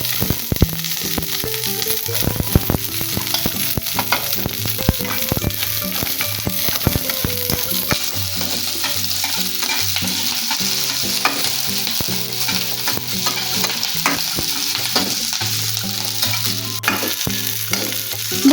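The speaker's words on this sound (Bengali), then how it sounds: "আমি রসুন কয়েকটা আদা কুচি আর মরিচগুলো একসঙ্গে ভেজে নিব" Garlic, chopped ginger and chilies fry together in a pan, giving a continuous loud sizzle broken by frequent scraping stirs throughout.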